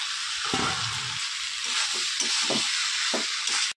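Radish and potato sizzle loudly in hot oil with spices for a fish curry, a steady frying hiss broken by soft scraping thuds as the vegetables are stirred around the pan.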